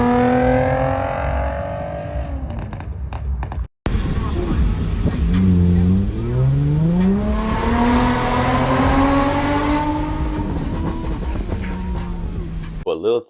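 A Mercedes C350 with a 3.5-liter V6 and a straight pipe exhaust roars loud and raspy, rising and falling in pitch as it revs and accelerates past. After a short cut the revving resumes and climbs, with a voice faintly audible at times.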